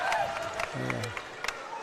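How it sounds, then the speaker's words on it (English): A home crowd at a boys' high school basketball game gives a standing ovation, a broad wash of applause and cheering beneath a commentator's voice in a short burst. "As they get a standing ovation from the Shady crowd."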